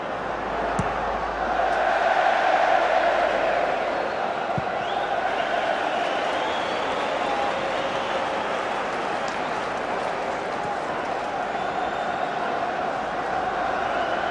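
A large football stadium crowd at Sunderland's league match against Burnley in the Championship, cheering and roaring as a steady, broad wall of noise throughout, swelling early on, with commentary over it.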